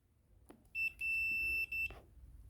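A thin electronic beep from a tester probing the signal cable of a Kaabo Wolf Warrior GT electric scooter with Error 30, two short high tones in quick succession then a longer one, clear against near silence with soft clicks around it.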